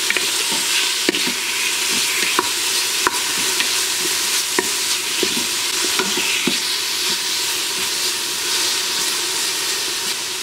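Beef stew meat browns in an Instant Pot, hissing and sizzling continuously while a utensil scrapes the bottom in a string of sharp, irregular clicks and scrapes, up close with no speech.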